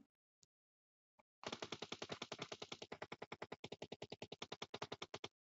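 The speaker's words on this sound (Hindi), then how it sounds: "यहाँ पे गोलीबारी चालू हो चुकी है" Automatic gunfire in PUBG, the battle royale video game, rattles as a long fast burst of closely spaced shots after a couple of isolated single shots, loud and without pause for several seconds.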